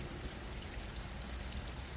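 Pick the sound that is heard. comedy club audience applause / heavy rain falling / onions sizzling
heavy rain falling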